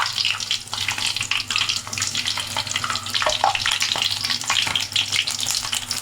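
Vada frying in hot oil just after being turned over, a steady close sizzle and crackle of bubbling oil running throughout with no voices.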